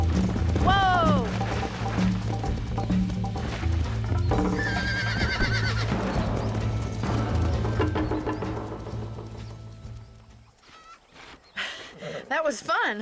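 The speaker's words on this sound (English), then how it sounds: "You're gonna wear that horse out!" Hooves clatter in a fast gallop while a horse whinnies repeatedly in the video game Red Dead Redemption, with voices talking over the action and a brief lull near the end.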